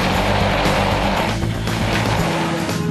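Toyota RAV4 AWD straining up a steep hill, its engine droning loud and steady with tire noise and slipping wheels throughout, no voices.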